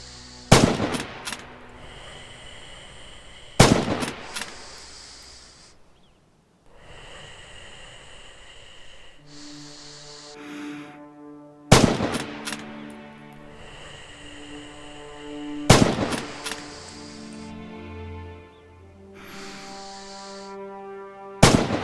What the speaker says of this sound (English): This is the standard Kar98 with a sniper scope fitted. You can fire from a standing, crouched or prone posture.